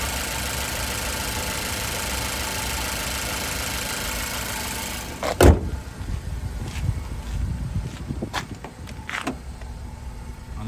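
A 2016 Ford Focus 2.0-liter four-cylinder engine idles with a steady hum, then a sharp thump and a few brief mechanical clicks follow as the sound shifts to a rougher, uneven idle.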